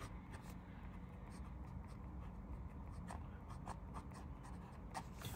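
Pilot soft-nib fountain pen writing calligraphy on paper, soft scratchy strokes in a steady irregular rhythm up close, quiet, with a low background hum.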